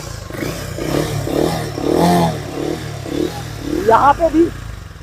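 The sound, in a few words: Harley X440 motorcycle engine revving while standing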